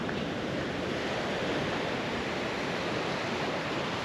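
Ocean surf breaks continuously on the beach at Cosy Corner, Albany, a steady broad roar of waves with wind mixed in, loud and constant with no voices.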